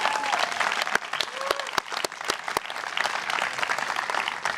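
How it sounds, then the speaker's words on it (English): An audience at a Maui Prep graduation applauds its graduates in a steady burst of clapping, with a few sharp close claps standing out and faint voices mixed in. "you can give them a round of applause for that"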